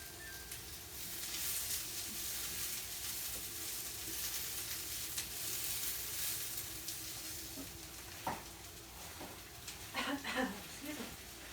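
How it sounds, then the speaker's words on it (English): Onions browning in a pan give a steady, moderate sizzle while being stirred, with scraping clicks of a utensil near the end. "Just stirring up these onions. They're getting a little brown."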